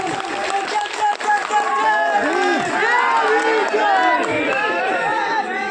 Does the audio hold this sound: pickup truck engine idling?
no